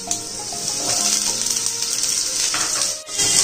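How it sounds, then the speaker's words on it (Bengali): Potato pieces frying in hot oil in a kadai while cooking paneer dalna, giving a steady loud hiss and sizzle throughout with faint stirring clinks. "তেল গরম হয়ে গেছে, এবার আমি আলুগুলো তেলে দিয়ে দিচ্ছি"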